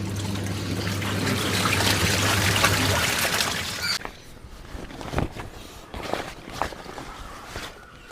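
A washing machine fills with soapy water and starts up: a steady trickling flow over a low motor hum for a few seconds, then quieter sloshing with scattered clicks and knocks, close by and without talk.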